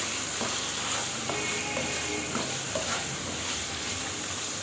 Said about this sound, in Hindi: चिकन मैंने डाला है, तकरीबन 400 ग्राम चिकन है, ये हम इसमें ऐड कर देंगे।